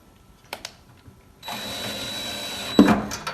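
A power drill drives self-drilling screws into a universal strike block on a door frame, a few taps and clicks followed by a steady whirring run that ends in a brief louder bite.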